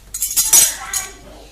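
A measuring spoon clinks against a container while salt is measured for homemade chocolate coconut ice cream, giving a couple of bright, close metallic taps within about a second and a half.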